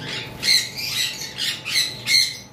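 A blue conure parrot from a breeding pair squawking in a cage, four or five sharp, harsh, close calls spaced about half a second apart.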